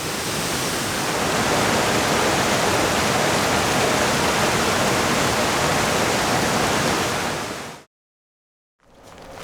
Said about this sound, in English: Waterfalls just never get old.